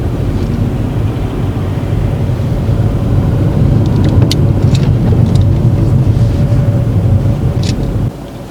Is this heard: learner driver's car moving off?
yes